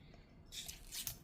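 Scissors snip through UV resin tape held between popsicle sticks, two quiet bright cuts close by in a calm room, each a short crisp slice.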